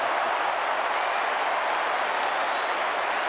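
Sustained crowd applause ripples through a packed stadium at a 1989 Australian football preliminary final, with Essendon supporters among the clapping fans; dense and steady throughout, with no voices rising above it.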